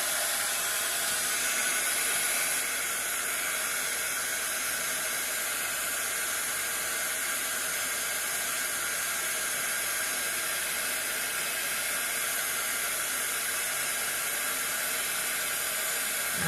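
A heat gun blows steadily and loudly for the whole stretch, a continuous broadband hiss and whoosh with no breaks and no voices.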